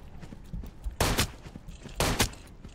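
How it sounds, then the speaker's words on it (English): Gunfire in the video game Into the Radius 2: two sharp, loud bursts of shots about a second apart, standing out over low background rumble. "I hear the gunshots all the way the fuck over here."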